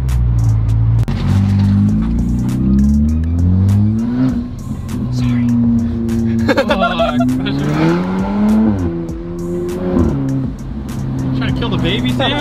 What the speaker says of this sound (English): Sam is sending it like full send in corners and he's chirping tires.